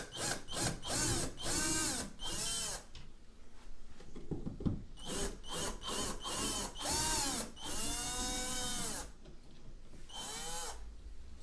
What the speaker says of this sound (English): you then just remove these other screws, which remove the mounting plate from the wall.